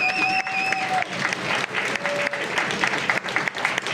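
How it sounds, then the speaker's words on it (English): Audience applause at a conference's closing remarks, a dense steady wash of many hands clapping, loud and close, with a few brief tonal beeps early on. "we applaud you, and we love you"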